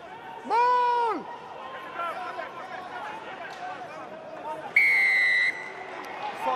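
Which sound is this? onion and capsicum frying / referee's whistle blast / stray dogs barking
referee's whistle blast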